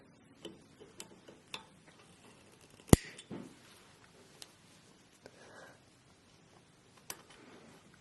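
Metal wire is snipped with cutters while making earrings, a series of sharp close clicks and ticks with one louder snap, scattered irregularly over a quiet background.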